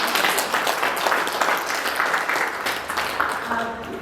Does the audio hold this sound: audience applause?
yes